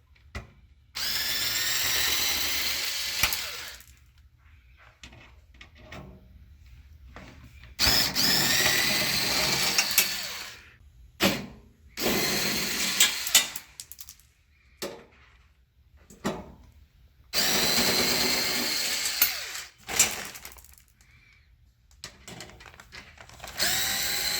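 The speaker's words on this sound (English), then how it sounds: "You are going to need a 5/16 socket to get these screws out here." Screws on a GE refrigerator's water dispenser assembly being backed out with a 5/16 power-driven socket, heard as several loud, close whirring drill bursts of a few seconds each, separated by short pauses and small clicks.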